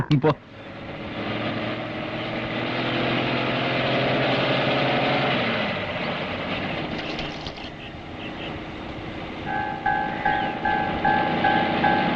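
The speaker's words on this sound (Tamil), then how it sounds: "பஸ் வந்து நிக்குது" A bus pulls in and stops, its engine running as a steady, loud rumble that settles into idling, followed by hissing and rhythmic tonal beeps near the end.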